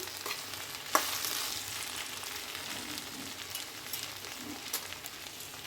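Okra sizzles and crackles in hot oil with a steady frying hiss, broken by a couple of sharp clinks of stirring, with chili powder added.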